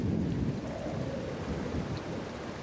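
A thunderstorm in the video game The Alters: dense rain pours steadily alongside a low, rolling rumble of thunder, loud and continuous throughout, with no speech.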